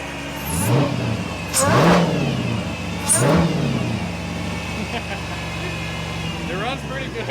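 A supercharged Dodge Charger Pursuit engine revs up sharply three times, with a rising whine on each rev, then settles into a steady idle, loud and close, while people talk over it.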